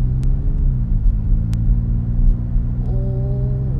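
A Genesis GV70 engine in sport mode hums steadily with a low rumble, its pitch rising as it accelerates on a road, the revs climbing near the end.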